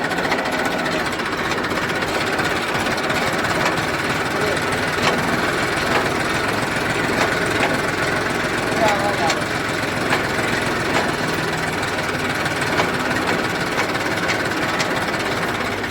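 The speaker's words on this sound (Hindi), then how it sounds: "ये रिवर्स गियर डालने पे इसमें आवाज़ आ रही है।" Massey Ferguson 1035 tractor with a gearbox fault, running with reverse gear engaged, giving a loud continuous mechanical clatter and whine over the engine's drone, steady and close throughout with no let-up.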